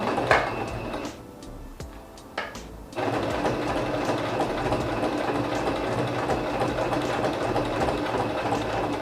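A sewing machine stitching a firm roller photo album binding, running in a steady, loud mechanical buzz with a brief pause near the start before continuing without a break.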